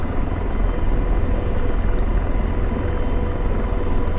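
An AH-64 Apache helicopter in the DCS flight simulator drones with a constant loud rotor and turbine rumble, steady and close throughout with no talking.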